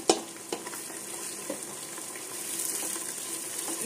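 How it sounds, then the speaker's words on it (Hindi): Sliced onions hit a hot pan for a mutton keema stew, giving a steady close sizzle with a few sharp clacks of stirring at the start. "अब हम इसमें डाल देंगे 2 मीडियम साइज की कटी हुई प्याज"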